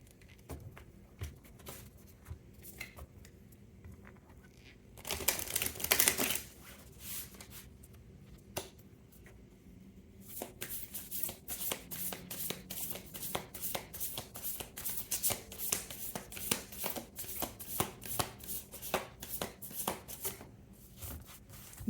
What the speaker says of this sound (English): this was actually on the bottom of the deck as I was shuffling